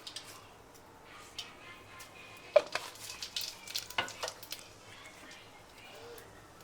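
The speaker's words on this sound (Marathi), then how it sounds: "पहिले वरणला फोडणी देऊन देते म्हटलं" Oil sizzles softly as a tempering is made for dal in a home kitchen, with faint spoon stirring and ticks and a few sharper crackles in the middle.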